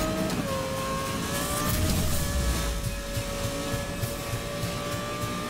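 A racing car engine revs steadily in Need for Speed Most Wanted (2012), a sustained roaring drone with shifting tonal whines as the car holds high speed.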